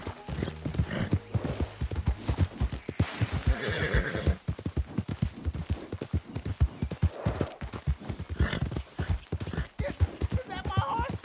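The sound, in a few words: horse neighing and hooves clip-clopping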